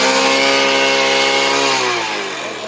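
A Chinese motorbike engine revving high and buzzy, strong harmonic whine sustained close by, then the pitch dropping and fading as the throttle eases off.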